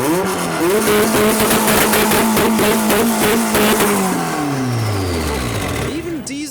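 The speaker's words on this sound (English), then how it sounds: "The Honda's still boosting in the background" A boosted Honda Civic engine revving hard, with rising and falling pitch sweeps and a long descending note as it winds down, loud and close, with voices talking over it.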